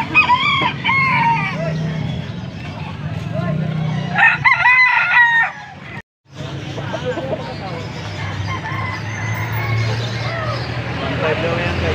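Young roosters crow repeatedly at a busy poultry market in Angeles, Pampanga, loud and close, mixed with clucking and squawks while someone talks over the birds.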